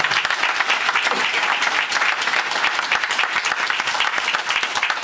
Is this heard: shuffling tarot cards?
no